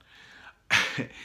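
A single sharp sneeze bursts out close by, preceded by a faint breathy intake and followed by a short trailing exhale.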